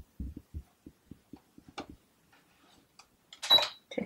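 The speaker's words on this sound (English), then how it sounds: "Stop and then continue sewing" Domestic sewing machine stitching a folded sleeve cuff on a split sleeve: a short run of soft, evenly spaced needle thumps, a pause, then a brief burst of whirring.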